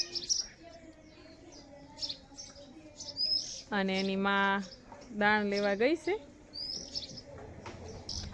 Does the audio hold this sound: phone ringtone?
no